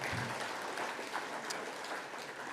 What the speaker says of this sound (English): let's all give a round of applause to Doc.